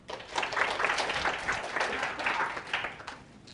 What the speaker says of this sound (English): Okay, big round of applause.